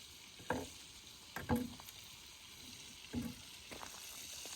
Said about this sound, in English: I am going to saute some onions in it